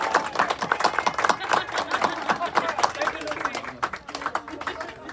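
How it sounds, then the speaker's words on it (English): Wedding guests clap for the couple, a dense burst of hand claps that rises, thins briefly and picks up again, with scattered voices in the crowd. "I think we should congratulate you with applause"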